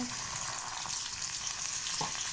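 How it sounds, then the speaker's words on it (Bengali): Spices sizzle steadily in a pan for chicken biryani, a close, even frying hiss with faint stirring and no speech. "এগুলো আমার ভাজা হয়ে গেছে এখন পরিমাণ মতো একটু পানি দিয়ে দিব"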